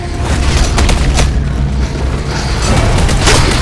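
A dense, continuous rumbling roar with booming bursts fills the whole stretch, like a loud explosion in the video game Hounds: The Last Hope, with no clear pauses.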